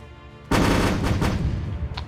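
A single loud tank gun blast in the War Selection video game, a sudden sharp boom that rolls into a rumbling decay lasting over a second.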